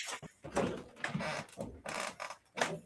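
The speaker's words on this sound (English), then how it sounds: "I hear creaking" Creaking comes in several irregular bursts, like a door or wooden surface straining under movement, moderately loud and near, with no voices.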